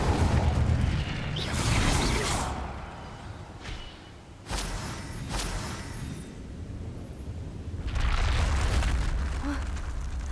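Incendio fire spells in Hogwarts Legacy go off in repeated roaring, explosive bursts, loud and close, with sharp flares separated by brief dips where the flames die back.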